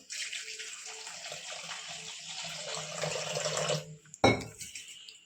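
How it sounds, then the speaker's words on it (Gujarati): Water pours steadily into a pot for several seconds with a running, splashy hiss, then stops, followed by a sharp metallic clank. "હવે આપણે નાખશું પાણી"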